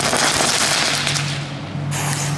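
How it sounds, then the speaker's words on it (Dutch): Old-fashioned knetter firecrackers (rotjes) from an Aldi fireworks haul set off outdoors, giving a dense crackling burst that fills the air and stays loud throughout. "Wel echt heel ouderwets vuurwerk afsteken"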